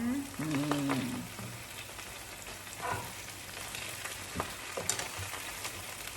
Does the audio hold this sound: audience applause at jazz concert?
no